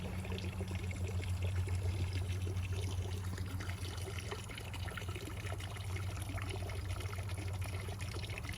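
A small waterfall in a home garden trickles and pours continuously, a steady, moderately close splashing stream with no pauses.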